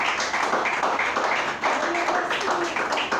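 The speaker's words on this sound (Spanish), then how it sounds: "Denle un aplauso a Cristo." Church congregation applauding during a Spanish-language sermon, a steady, busy patter of many hands clapping at once, moderately loud and sustained throughout.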